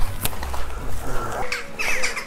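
Several birds nesting in a house squawk and screech in harsh overlapping calls, with a scattered chorus of chirps behind them, fairly close, and no one speaking.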